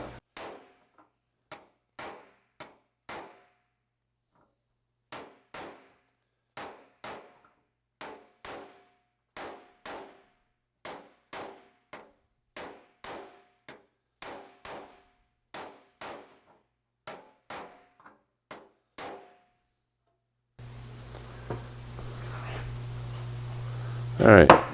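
An Austin-Healey 3000's metal shroud takes a long run of sharp, ringing hammer blows, evenly spaced with brief pauses, loud and close, before giving way to a few seconds of broader workshop noise at the end.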